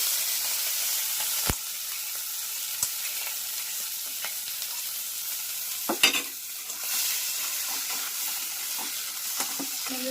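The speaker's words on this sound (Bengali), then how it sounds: "কাঁকড়াগুলো ভেজে নিচ্ছি একটু।" Chiti crabs frying in hot oil in a wok give off a steady, loud sizzling hiss, broken now and then by sharp spatters and clicks from stirring. No voices.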